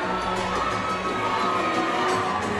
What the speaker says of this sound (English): This crowd is shouting for Valdina to make that walk in.